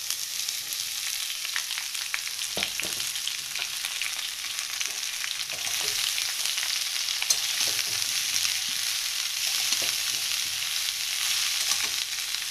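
Cabbage and green chillies frying with potatoes in a pan give off a loud, continuous sizzle, broken by occasional scraping and stirring knocks against the pan, with no talking.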